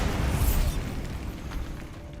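The Bombarda blasting spell from Hogwarts Legacy erupts in a loud, close burst, its rumbling boom settling into a crackling decay of debris over a couple of seconds.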